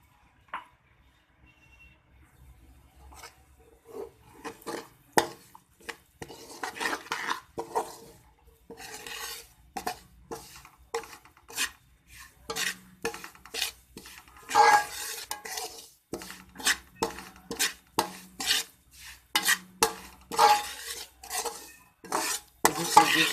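Semolina being stirred in a pan of hot oil while it browns, a close run of repeated scraping and clinking strokes from a utensil against metal, with a faint sizzle underneath and no voices.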